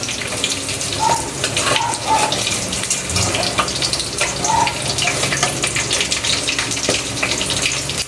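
Water pouring off boiled hotdogs as they are drained in a home kitchen, a steady rushing splash running throughout at close range with no speech.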